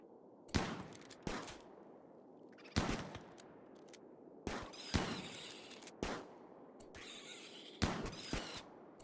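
Colonists fire guns at a wild beaver in the video game RimWorld: a series of sharp, close shots with short bursts, spaced irregularly a second or two apart.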